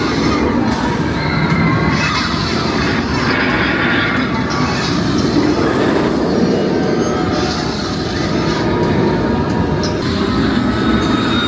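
The Smiler roller coaster thundering past a queue line, a loud, continuous roar and rattle of the train on its track with squealing wheels, close and dominant throughout, a voice faintly underneath.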